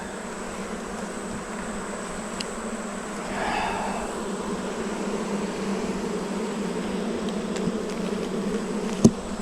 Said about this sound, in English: There is just bees everywhere on this mamma jamma.